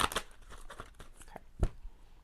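An oracle card deck is shuffled by hand, giving a quick run of crisp riffling and slapping card sounds, close and fairly soft, with one sharper knock near the end.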